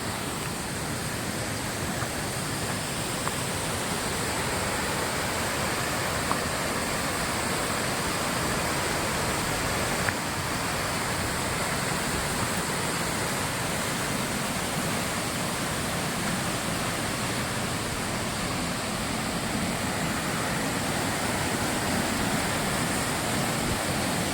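Domzira waterfall at Jawhar, a year-round cascade, gives off a steady, unbroken roar of falling water that stays even and full throughout, with no voices.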